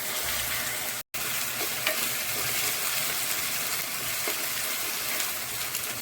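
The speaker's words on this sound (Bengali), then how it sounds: "এখন দিয়ে দেবো আদা রসুন বাটা। এখন এটা ভালো করে ভেজে নেব।" Ginger-garlic paste frying in a pan gives a steady, broad sizzle with faint stirring scrapes, cut by one brief silent gap near the start.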